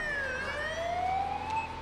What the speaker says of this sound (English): Alright, so there's the ambulance.